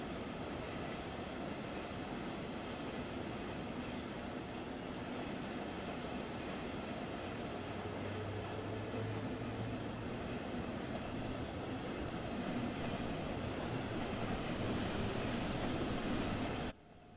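A passenger train on the Dresden route in Train Sim World 2 rumbles steadily, with a continuous rolling roar heard from inside the train that holds evenly for a long stretch and then cuts off abruptly.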